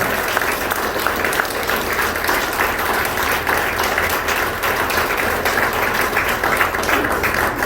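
Sustained applause from a church congregation, dense and steady throughout at a strong, even level, with no voices standing out.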